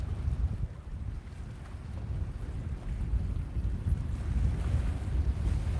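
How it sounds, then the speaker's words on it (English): Strong wind blows steadily at a lakeshore, a continuous low rumbling roar of gusts buffeting the microphone with the wash of water beneath it. "The wind is really, really pushing my swim bait into shore."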